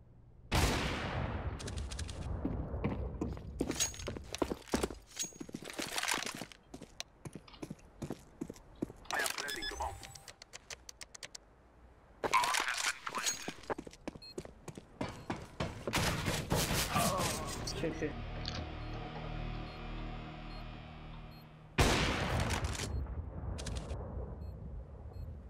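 Sharp bursts of Counter-Strike: Global Offensive gunfire on the Mirage map crack in quick clusters and single shots, with talk and game sounds in between.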